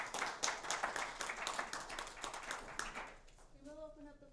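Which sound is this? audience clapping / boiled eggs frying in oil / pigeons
audience clapping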